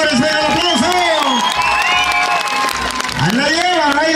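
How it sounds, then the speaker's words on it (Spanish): Crowd at a village festival jaripeo in Santa Cruz Tlahuitoltepec, applause and cheering mixed with loud, close voices and music, a continuous busy wash of clapping and whoops under amplified talk. "¿Cuál es el aplauso para esta pareja si ustedes piensan que ellos son los ganadores? ¡Venga el aplauso!"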